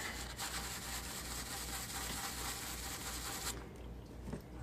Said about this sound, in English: Yeah, I'll just use a little scrub brush.